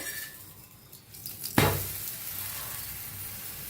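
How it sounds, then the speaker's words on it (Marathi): Dhapate flatbread roasting with ghee on a hot griddle gives a soft sizzle, with a sharp scrape or clink partway through followed by a brighter, steadier frying hiss. "तूप लावायचं आणि फिरवून घेऊया बघा मस्त शेकाय लागलाय"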